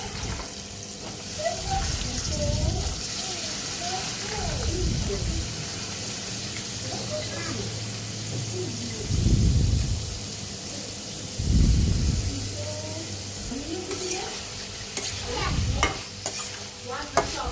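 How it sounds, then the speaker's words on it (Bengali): Bean seeds sautéed with turmeric and chili powder in a pan, a constant sizzle broken by several louder scraping stirs, with a voice speaking over parts of it. "এখন সিমের বিচিগুলো দিয়ে ভালো করে কষাবো"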